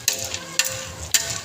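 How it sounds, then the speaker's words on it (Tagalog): Ingredients for sopas are being sautéed in a pot. Stirring scrapes come in three sharp bursts over a steady, soft frying sizzle, close by, with no talking. "Inigisa natin siya."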